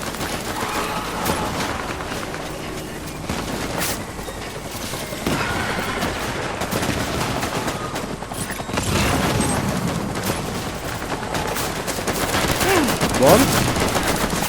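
Gunfire aimed at the player in a Kojima video game, rapid shots crackling continuously over a busy, loud game soundscape with faint voices mixed in.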